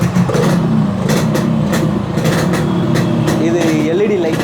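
Yamaha RX100 two-stroke motorcycle running steadily at idle in a Chennai repair and restoration shop, a continuous near engine drone with voices talking over it.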